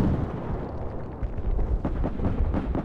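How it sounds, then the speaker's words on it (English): A grenade explodes in Battlefield 4, a dense rumbling blast followed by a chaotic roll of combat noise and scattered bangs in the game's battle, with no talk. "Oh, they grenaded me."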